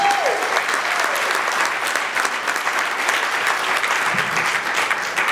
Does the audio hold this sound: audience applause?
yes